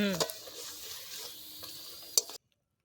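Soya chunks frying in a pan for soya chilli, with a steady sizzle and a few sharp stirring scrapes, including a loud clink near the end before the sound cuts to silence.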